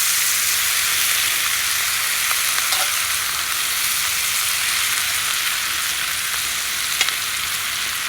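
Polish kielbasa and onions frying in a pan on a wood gas stove, a loud, steady sizzle with occasional soft scrapes and taps as the food is stirred, with no talking.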